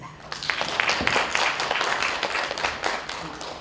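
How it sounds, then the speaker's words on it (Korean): Applause from the audience at a Yongin Cultural Center 70th-anniversary academic conference, a dense crackle of many hands clapping steadily for several seconds, moderately close, with no talk over it. "박수 부탁드립니다."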